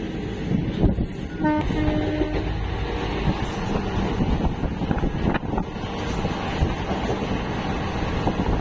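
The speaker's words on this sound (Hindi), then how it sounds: "ये ट्रेन है 1841 गुनुपुर पुरी एक्सप्रेस" Gunupur–Puri Express 1841, a passenger train with sitting, second and general class coaches, rumbling past in a hilly landscape, a steady loud roar of wheels and carriages with a brief horn-like tone and wind buffeting the microphone.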